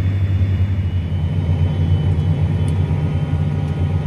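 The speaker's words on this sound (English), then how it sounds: "while I'm in the tractor" A farm tractor runs steadily while tilling fresh manure into a field in Idaho, its low, constant engine rumble loud and close throughout with no talk.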